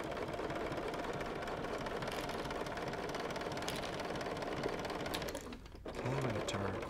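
A sewing machine with a stitch-in-the-ditch foot runs steadily while machine-binding a quilt, a fast even mechanical whir close by, pausing briefly near the end before a short resumption.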